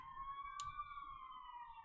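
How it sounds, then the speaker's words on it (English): Faint, distant emergency vehicle sirens outside wail steadily in the background, a thin sustained tone with a brief soft click partway through. "Apologies for the sirens outside"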